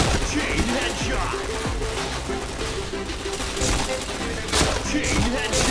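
Dense, continuous gunfire from the online shooter Point Blank, a loud fusillade of overlapping automatic shots and bursts sustained throughout with little pause.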